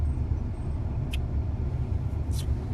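Road traffic noise on a morning live traffic update in Ohio, with slow, stop-and-go vehicles making a steady low rumble of cars and buses, plus a couple of brief higher hisses like air brakes, with no talking.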